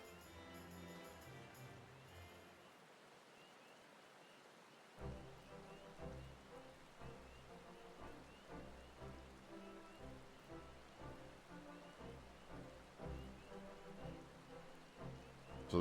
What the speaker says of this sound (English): And it is still raining.